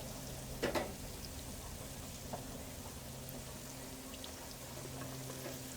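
Donut holes deep frying in hot oil inside an RV kitchen give a steady, soft sizzling hiss throughout, with a few brief louder crackles near the start.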